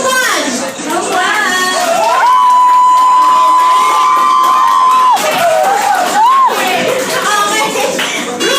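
A group at a birthday party game cheers loudly and continuously, with children shouting and one long, high sustained whoop held for several seconds before the excited crowd noise carries on.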